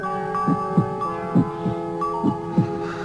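Heartbeat sound effect: soft, low thumps arriving in regular lub-dub pairs, about three beats over a steady low hum, with no talk.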